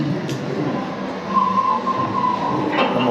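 Model train rolling along its track, a low continuous rumble with a faint squealing whine of wheels partway through, fairly close and steady.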